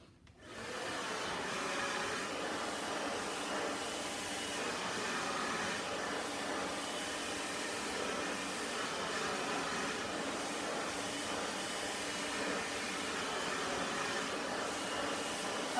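A hair blow dryer switches on and runs continuously at close range while hair is dried around a round brush for curls, a steady loud whooshing roar with no voices.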